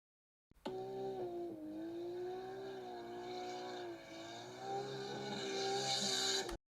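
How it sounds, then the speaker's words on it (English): A race car on a racetrack gives a steady, loud engine drone for about six seconds, its pitch dipping and climbing as it holds speed, with no voices. "here I have a clip of a race car on a racetrack"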